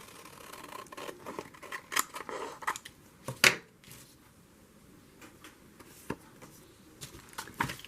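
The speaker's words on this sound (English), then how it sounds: "Okay, I'm going to cut this to size." Several short snipping and rustling bursts of paper being cut, close by and fairly quiet, with soft handling noises between the cuts.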